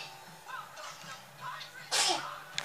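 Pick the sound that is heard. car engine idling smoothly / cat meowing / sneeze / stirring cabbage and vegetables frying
sneeze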